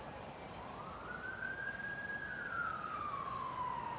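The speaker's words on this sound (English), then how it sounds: "I gotta let the sirens go by." An emergency vehicle siren passes at a distance, one long rising and falling wail climbing then sliding back down over steady outdoor background noise, with no talking.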